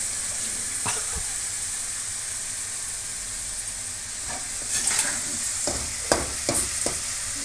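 Mushroom gravy sautéing in a pan, a continuous close sizzle and hiss with scattered spatula scrapes and knocks that grow busier toward the end.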